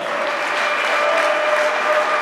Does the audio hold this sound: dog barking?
no